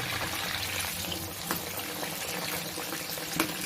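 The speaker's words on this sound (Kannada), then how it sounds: "ಚೆನ್ನಾಗಿ ಫ್ರೈ ಆಗಬೇಕು." Chicken frying in hot oil for homemade crispy chicken, a steady close sizzle and bubbling crackle with a few sharper pops, running evenly with no talk.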